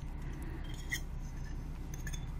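Glass Christmas ornaments clink together close by, a few light, bright chinks and small scrapes scattered over a quiet background, without any talking.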